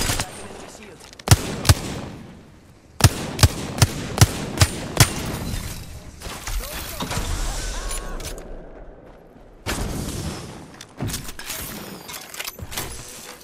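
Enemy gunfire in a first-person shooter match: sharp single shots and short bursts crack out in clusters, loud and close, mixed with game noise, rumbling movement and a stretch of hissing ambience, with a player talking at times.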